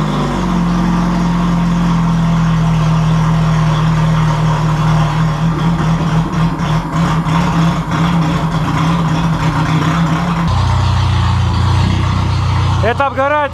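Belt-driven VAZ 2105 car engine fitted with an injector, running at a steady idle with a low drone that shifts pitch partway through, close and loud, while people talk over it.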